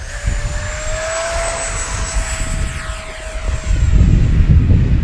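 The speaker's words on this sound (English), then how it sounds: "Taking off the Vulcan." A Freewing Vulcan 6S RC jet taking off, its loud steady ducted-fan whine holding a high pitch that sweeps gently, with a low rumble swelling near the end as it climbs away.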